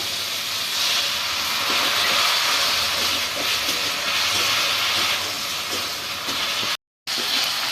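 Water poured into frying kopta masala sets off a loud, continuous sizzling hiss that holds steady throughout, broken only by a sudden brief cutout near the end; no voices.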